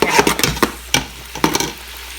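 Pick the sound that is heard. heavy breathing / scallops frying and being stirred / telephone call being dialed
scallops frying and being stirred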